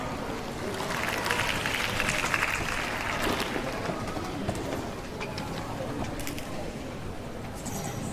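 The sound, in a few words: audience applause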